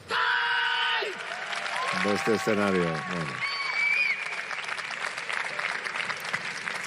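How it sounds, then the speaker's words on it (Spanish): Japanese karate team applauding from the stands at a Japan vs Spain karate event, a steady wash of clapping under a voice and ringing tones throughout. "Ahora escuchamos al equipo japonés ahí aplaudiendo en las gradas"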